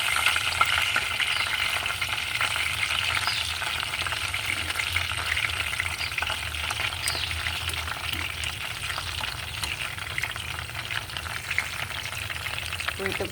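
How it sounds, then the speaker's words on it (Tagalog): Egg shanghai rolls fry in hot oil, a steady close crackling sizzle that runs without a break, with no talk. "Ipreprito na natin."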